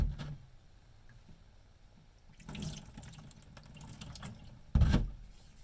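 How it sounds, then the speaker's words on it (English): Water runs briefly over a knife sharpening stone to rinse off built-up sludge, with a splashing burst near the start, a longer wash in the middle and a short loud gush near the end. "We already got some sludge built up, so I'm just going to rinse that super quick."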